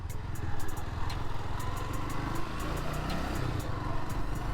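A 1985 Honda FT 500 Ascot single-cylinder thumper runs close by, its steady engine drone rising and falling slightly as it is shifted down from second into first gear.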